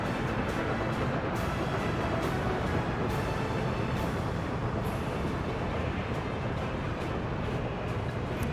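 A freight train waits and loads at a station in the city-building game Workers and Resources, a dense continuous rumble with faint clicks and knocks recurring every second or so, loud and unbroken throughout.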